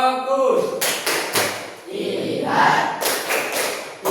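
A classroom of students performs a chanted clapping routine, with voices calling out in unison and sharp claps bursting in clusters between the chanting, close and lively.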